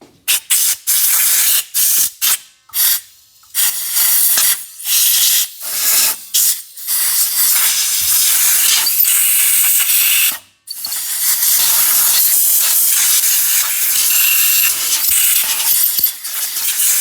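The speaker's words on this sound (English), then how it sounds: "I'm just gonna go ahead and take some compressed air to this." Compressed air blasts onto a Craftsman miter saw in loud, close, hissing bursts, first short and choppy, then longer continuous blows with brief gaps between.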